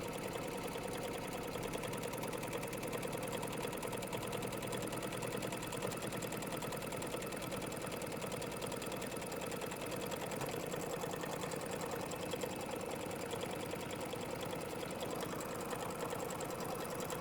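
A computerized sewing and embroidery machine runs steadily while stitching a paisley quilt held in a frame, a continuous fast needle clatter and motor hum that stays even and close throughout, with no talking.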